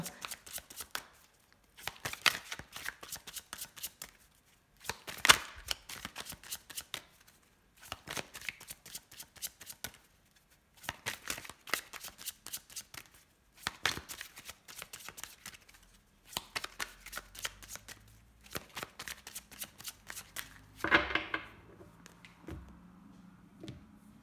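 An oracle card deck being cut and shuffled, giving repeated bursts of crisp riffling and flicking separated by short pauses, close and fairly quiet, with a low soft rumble of handling near the end.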